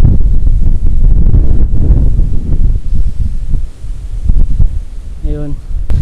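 Wind gusting over a road, buffeting the microphone with loud rumbling bursts and a rustle of leaves, close and steady.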